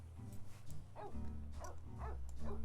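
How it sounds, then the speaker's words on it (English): A dog barks repeatedly in The Sims 3 video game, a string of short yapping barks with a soft whimper over a steady low game hum and music bed. "it's much less noisy than the dog barking"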